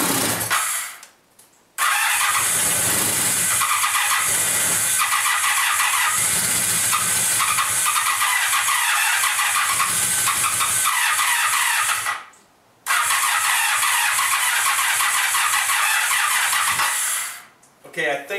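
A Honda Sabre motorcycle engine cranks, catches and runs loud on heavy choke, cutting out briefly twice before restarting, with a voice speaking over the running engine.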